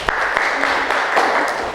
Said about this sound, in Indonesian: tepuk tangan untuk Mbak Umi